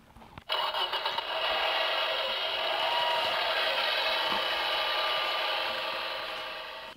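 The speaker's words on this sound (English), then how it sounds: "Every morning, the red tractor goes." Toy red tractor engine sound from a children's farm sound book, a sudden start into a steady buzzy mechanical drone that holds for several seconds and slowly fades.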